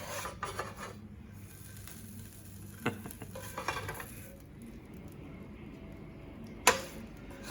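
A spatula scrapes crispy, darkened root vegetable hash from a pan, giving soft scratchy rubbing strokes and a few sharper clacks, with one bright metallic scrape near the end over quiet background.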